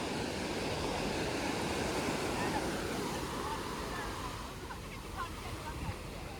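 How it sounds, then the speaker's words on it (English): Ocean waves at sunrise on the beach in Da Nang, Vietnam, a steady, soft wash of surf rolling in continuously, faint and even, with no talking. "I'll pause talking so you guys can hear the waves."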